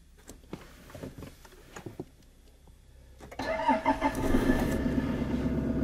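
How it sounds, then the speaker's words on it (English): Toyota Land Cruiser 150 Series 4WD engine cranks and fires on its auxiliary second battery, a few quiet clicks and faint background sounds giving way at about 3.4 seconds to a loud, steady, close idle rumble. "now we are starting with the help of the second battery."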